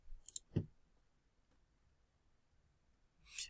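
A single mouse click on a publish button in a Google Sites editor, short and dry, heard near and alone in an otherwise quiet room.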